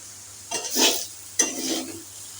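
Bitter gourd frying in a pan makes a soft background sizzle, broken by two distinct scraping stirs about a second apart, each swelling and fading.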